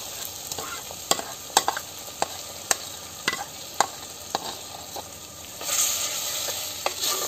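A spoon taps and scrapes sharply against the pan again and again over a low sizzle as mulai keerai greens are stirred into sautéed tomatoes. The taps are irregular and close, with no speech.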